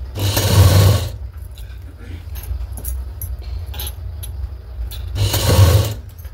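A sewing machine stitches piping onto the neck of a blouse in two short loud bursts at the start and end, with quieter clicks and handling noise between them.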